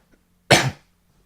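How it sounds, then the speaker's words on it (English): A single sharp cough, close and loud, bursting out briefly and then fading to silence. "Sorry about the cough."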